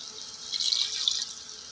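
Half a glass of water is poured into a cooking pot of chicken biryani seasoned with paprika, a short, bright splashing pour that swells briefly in the middle and trails off, close and fairly quiet with no talk.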